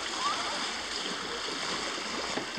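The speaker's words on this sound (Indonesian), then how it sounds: "air sungai yang mengalir jernih sempurna" Clear river water flows steadily beneath a suspension bridge in a mountain village near Blangkejeren, Gayo Lues, Aceh, a constant broadband rushing wash with no distinct events.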